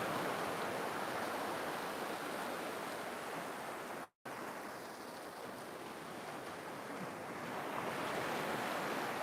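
Waves washing onto the beach at Khao Takiab, Thailand at high tide, a steady broad surf roar with some wind, continuous apart from a brief dropout in the middle.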